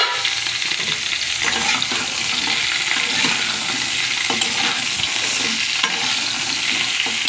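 Potatoes and bori lentil dumplings fry together in a pan, giving a loud, continuous sizzle with steady scraping and stirring throughout and no talk.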